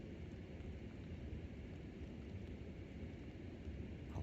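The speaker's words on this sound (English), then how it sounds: "You can hear the rain on the outside of the tent." Steady rain drumming on the outside of a tent during wild camping in a Scottish forest, a continuous dense patter that fills the whole stretch with no voices.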